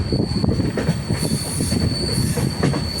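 The Guruvayur–Madurai Express rolling into a rock tunnel, with a loud, continuous rumble of railway carriages, a sustained high wheel squeal and faint rhythmic clatter of wheels on the track.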